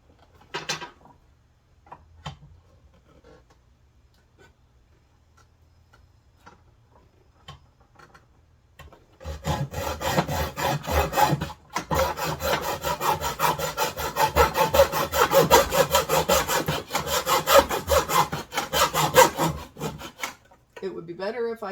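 A hand saw cuts through wood held in a miter box on a bench, making steady back-and-forth rasping strokes that run continuously for about twelve seconds after several quiet light taps and clicks.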